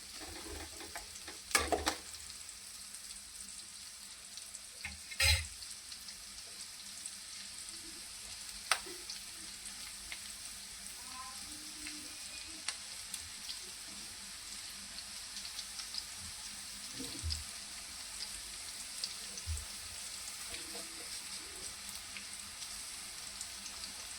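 Lots of onions fry in a pan for kheda bhaji, a quiet, steady sizzle with occasional louder clinks and stirring knocks running throughout.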